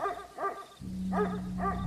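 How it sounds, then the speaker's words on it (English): A dog barks in a few bursts, loud and close, over a low steady hum, with no one talking. "his deep, loud bark started echoing through the woods"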